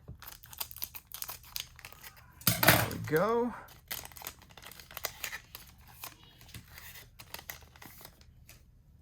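Scissors snip and crinkle through the foil wrapper of a Pokémon Go card pack in one short burst of cutting, near and clear, with someone talking quietly before and after.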